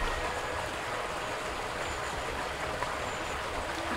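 The river Windrush flowing, a steady broadband rush of moving water, close and constant for the full four seconds with no talk over it.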